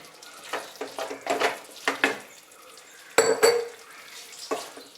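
Lemon pieces being mixed into pickle in a pot, a series of close, uneven clinks and scrapes of a spoon against the pot, with short pauses between strokes and no talk.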